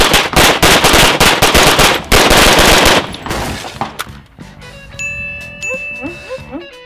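Airsoft guns firing, loud rapid bursts of close shots for about three seconds, followed by scattered pops and the light tinkling of BBs striking and bouncing.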